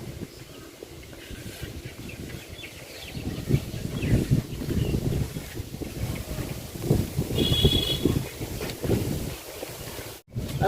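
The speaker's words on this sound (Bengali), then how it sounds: "বাতাসের জন্য আসলে চুলা জ্বালানো খুবই কষ্টকর এখন কী পরিমাণ বাতাস" Strong wind buffets the microphone outdoors during rice harvesting, in heavy, rumbling gusts that swell and fade, roaring steadily throughout with a brief dropout near the end.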